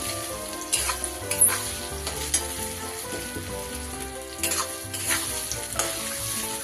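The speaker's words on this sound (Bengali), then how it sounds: "শিমটা তেলের ওপরে আমাকে নেড়ে নিতে হবে।" Flat beans frying in oil in a pan over a gas flame and being stirred, with a continuous sizzle broken by several sharp scraping strokes, close and moderately loud.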